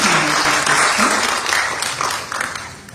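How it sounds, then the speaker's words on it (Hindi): Loud, sustained audience applause at an awards ceremony in Delhi, welcoming guests onto the stage, a full room clapping steadily before gradually tapering off. "जोरदार तालियों से आप सभी स्वागत करेंगे"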